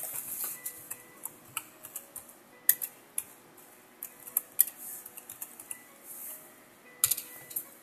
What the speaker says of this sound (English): I'm going to type it for you guys